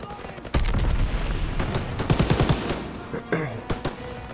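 A mounted machine gun in Call of Duty WW2, set in an ambush in the Ardennes, Belgium, fires in loud, rapid bursts. A tight rattle of rounds runs for most of the stretch, then a few sharper shots follow after a brief pause.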